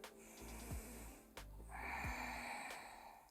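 Deep breathing during a yoga session, a close, airy inhale and exhale with a snorting, nasal edge, heard as a few long breaths without talk.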